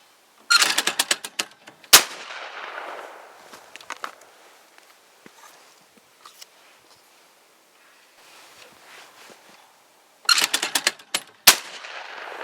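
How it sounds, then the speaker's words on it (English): 28 gauge C.I.L. Model 401 shotgun fired at clay targets outdoors, sharp loud reports in two bursts separated by a long quiet stretch, with clattering action noise and faint rustling between shots. "Let's give this little 28 gauge a try on some clay targets."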